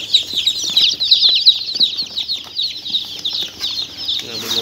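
A dense chorus of newly hatched chicks from a hatchery incubator, mostly high, shrill peeping from many young birds, continuous and close, with occasional rustling underneath.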